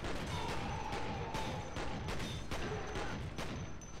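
Pistol fire in the game F.E.A.R.: a string of sharp, evenly spaced shots cracks out roughly every third of a second, loud and close over a dense, noisy background.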